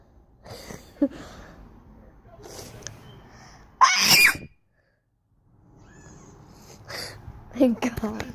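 A single sharp, strange-sounding human sneeze bursts out loudly mid-clip. A person talks before and after it.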